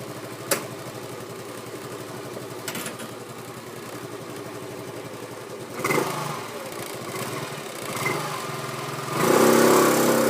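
Scooter engine idling in a garage, a steady close mechanical putter that swells louder in short revs toward the end.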